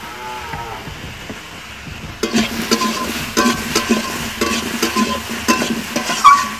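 Food hits hot oil in a pan partway through and sizzles steadily up close, with scraping stir strokes over the frying; it is quieter before the food goes in.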